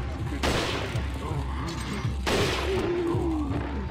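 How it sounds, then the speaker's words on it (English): Two loud, sharp gunshots about two seconds apart in the video game Resident Evil 4, each with a short crashing tail, under a low background of game sound and casual talk. "You shot his hand, but went through it and shot the other guy."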